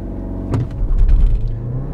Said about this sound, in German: Jetzt schalten wir allerdings in D, beschleunigen nochmal auf 100 durch